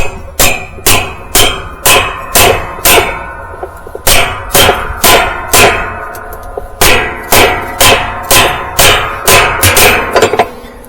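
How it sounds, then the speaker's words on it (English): A 2-pound hammer taps a washing machine gearcase on a Maytag Bravos XL, a steady series of sharp metallic clanks at a brisk, even pace, close and loud, with no talking. "You give it a few taps with a 2-pound hammer"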